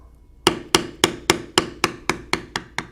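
A mallet taps a beveling tool into leather while a standing moose design is carved: ten sharp, close, evenly spaced knocks, each ringing briefly and fading slightly in strength toward the end, with no talk.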